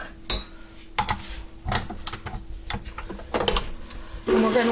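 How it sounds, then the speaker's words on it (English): Stand mixer fitted with a dough hook working pizza dough in a home kitchen: irregular clanks and knocks of the hook and bowl over a steady motor hum, fairly close and without speech. "Then we're going to pop this on the mixer with the bread hook"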